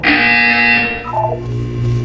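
A harsh, sustained electronic buzzer from the Portal 2 test chamber sounds loudly and steadily for about two seconds, its tone dipping and shifting partway through.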